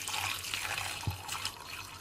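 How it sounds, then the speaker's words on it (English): Water pours from a tap into a pot over sweet potatoes and garlic, a steady soft splashing and gurgling with a few small drips, close and moderately quiet, no voices. "just pour water to cover all the sweet potato and the garlic"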